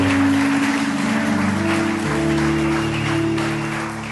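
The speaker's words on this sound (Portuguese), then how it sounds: "Pode dar uma salva de palmas para o Senhor" A church congregation claps in praise, a sustained patter of many hands under a held musical chord from instruments, steady and fairly loud before easing slightly at the end.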